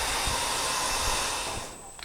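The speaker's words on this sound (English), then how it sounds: "I am going to take my trusty hair dryer here, and we are just going to go to town and dry it up." A handheld hair dryer blows steadily on towel-dried long hair, a constant close airy whoosh that fades slightly near the end.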